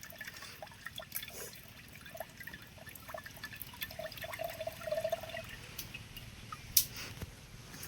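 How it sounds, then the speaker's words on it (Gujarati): Water from a single fresh coconut trickles and drips out steadily, a soft, fairly faint liquid flow with a few small splashes over a quiet background and no talk. "ઓહો પાણી તો ઘણું નીકળ્યું છે એક નાળિયેરમાંથી."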